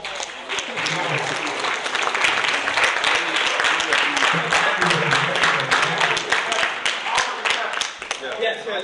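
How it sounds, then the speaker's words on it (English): Sustained audience applause fills a poetry slam venue, a dense continuous wash of many hands clapping at steady volume, with scattered voices and cheers mixed in throughout. "Can we give one more round of applause?"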